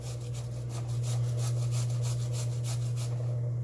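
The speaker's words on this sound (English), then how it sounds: "I'll just get like a cheese grater, and then you can just run that." Carrots are scraped against a cheese grater in a home kitchen, a steady series of rasping strokes over a constant low hum, fairly quiet and with nobody speaking.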